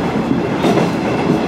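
A train bound for Koide on the JR Tadami Line, heard as a close, loud, steady rail rumble with soft clickety-clack through a brief stretch.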